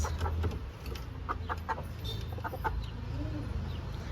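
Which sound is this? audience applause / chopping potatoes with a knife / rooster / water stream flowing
rooster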